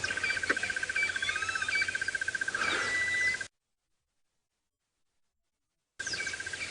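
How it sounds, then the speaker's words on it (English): A golden-tailed woodpecker calls repeatedly from a distance at sunrise, its notes rising over a steady insect or frog trill and other faint birdsong, cut by a few seconds of silence. "There's a golden-tailed woodpecker calling"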